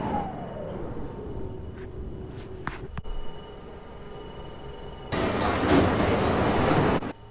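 Simulated New York subway train in a video game rumbles along, starting with a falling whine, then a quieter stretch before a loud burst of rushing track noise near the end.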